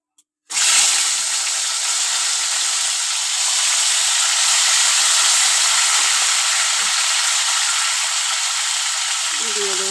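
Tomato drops into hot oil with cracked mustard seeds, setting off an abrupt, loud, steady sizzle that hisses continuously from the moment it lands, with a brief clink near the end.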